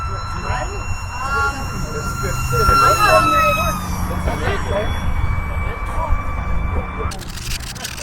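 An E-flite UMX MiG-15 RC jet with a 28mm electric ducted fan screams past at full throttle, a steady high-pitched whine that swells and shifts in pitch as it passes, with wind noise throughout and talk alongside.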